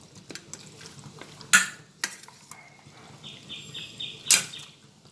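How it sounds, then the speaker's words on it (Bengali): Chicken being mixed by hand with sour yogurt for chicken korma makes soft, wet squelching and a few sharp clinks against a metal bowl, close and irregular, with no talking. "এরপরে ভালোভাবে এই মাংসটা আমি মাখিয়ে নিচ্ছি।"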